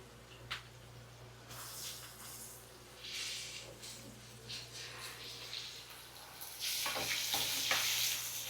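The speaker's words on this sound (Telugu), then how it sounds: "ఇవి మంచి గోల్డెన్ బ్రౌన్ అయ్యే వరకు ఫ్రై అవ్వనివ్వాలి" Onions and green chillies fry in oil for masala dosa filling, a quiet sizzle broken by stirring scrapes and swells of crackle that grow louder toward the end.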